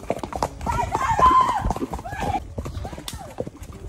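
Horse hooves clip-clop in an uneven rhythm during a horseback ride in Campos do Jordão, with a neigh and people talking over the steady walking beat.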